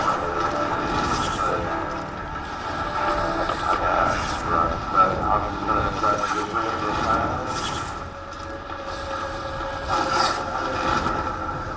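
Underground train running in Call of Duty Warzone, a continuous rail rumble with recurring clanks and scraping bursts, loud and close, with occasional voices over it.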